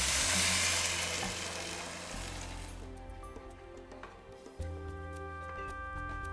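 Vegetables and cumin stirred in a soup pot before the stock goes in: a strong hiss at first that fades as stirring continues, with low steady hum and a few light utensil taps, close by.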